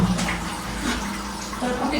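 Water runs out of the back of a washing machine in a steady, close, continuous rush with a low hum, with no pauses.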